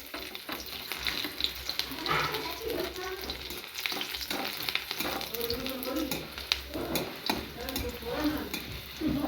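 Chopped garlic and whole dried red chillies fry in hot oil in a pan with a continuous close sizzle. Stirring clatters and scrapes through it, and faint background noise runs underneath.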